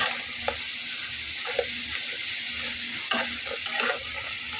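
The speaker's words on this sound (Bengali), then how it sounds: "বারবার নেড়ে দিতে হবে যাতে করে পুড়ে না যায়" Food frying in a pan and stirred again and again, a soft hissing sizzle with a faint steady hum and light taps and scrapes of the spoon at irregular moments.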